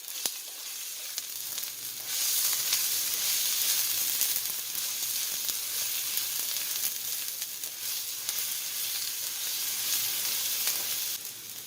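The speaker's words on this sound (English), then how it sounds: "I'm going to go ahead and just add in the onion in there. We want our onion to cook just a little bit, to caramelize a little bit." Chopped onion sizzling in olive oil in a skillet, a steady close crackling hiss that swells as it hits the hot pan and holds evenly throughout, with faint stirring clicks and no voices.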